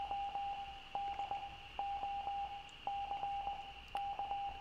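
Buzzer beeps in the video game The Island: Into The Mist, a repeating series of short steady electronic tones in uneven bursts over a constant high hum.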